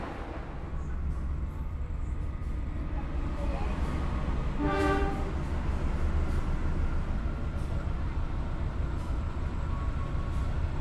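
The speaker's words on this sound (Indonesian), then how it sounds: "Baru saja kereta api Logawa diberangkatkan" Low, continuous rumble of the Logawa passenger train pulling out of Kutoarjo station, with a short horn-like tone in the middle and faint talk under the steady rolling noise.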